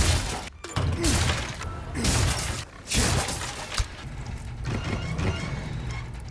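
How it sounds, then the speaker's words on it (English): Objects are smashed in Resident Evil 4 Remake: dense, loud crashing and shattering bursts with heavy thuds, nearly continuous and broken by short gaps. "the best combat maneuver is used outside of combat, and that is when you are smashing the shit out of everything you see"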